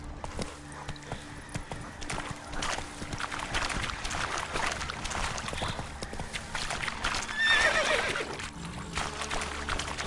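A horse gallops in The Witcher 3 with steady, rapid hoofbeats that continue throughout, and a brief whinny rises near the end over a low ambient bed.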